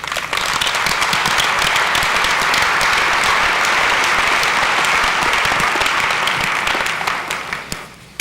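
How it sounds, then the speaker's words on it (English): Sustained, loud applause from a large corporate audience at an IBM Software Group EMEA event in Dubai, a thick steady wash of clapping that holds evenly before tapering off near the end. "and I think that you deserve an applause."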